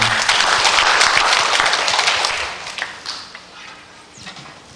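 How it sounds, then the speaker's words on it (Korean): A church congregation claps during a Sunday afternoon praise worship service, with dense, loud applause that thins out and fades after a couple of seconds, leaving scattered claps. "하나님 앞에 영광의 박수 올려드리겠습니다."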